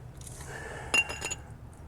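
Brake pads are pulled off a car brake near a worn rotor, giving a few brief close metallic clinks and scrapes over a quiet background hum.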